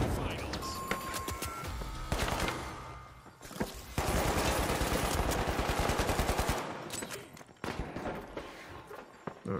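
Turret gunfire in the shooter game The Finals: sustained loud automatic bursts with rapid crackling shots, near and dense, nearly continuous before tapering off, with game noise mixed in.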